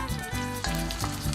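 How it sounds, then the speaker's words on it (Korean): Soaked, drained rice sizzles and crackles in olive oil in a pot, a close, loud, continuous frying hiss with small pops and stirring scrapes. "냄비에 올리브유를 자작할 정도로 두르고 미리 불려두었던 쌀을 물기 빼고 넣어주는데요."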